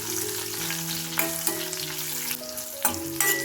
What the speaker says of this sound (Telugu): ఇవన్నీ బాగా ఫ్రై చేసుకోవాలండి,